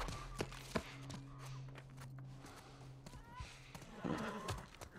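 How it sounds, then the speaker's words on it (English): A horse in The Last of Us Part I video game, with a snort or whinny and a few hoof clops up close, set against a low steady game ambience and scattered taps. "Stay with the horse."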